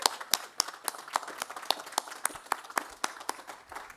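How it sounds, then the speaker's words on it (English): Sparse applause from a small group at a hospital event where frontline workers receive vaccinations, with distinct individual claps at an uneven rhythm, fairly close, with no one talking. "Let's give Lisa a round of applause"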